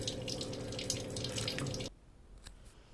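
Water pours from a tap over tamarind in a bowl to soak it, a close, steady splashing trickle that stops abruptly partway through, followed by a few faint drips in quiet.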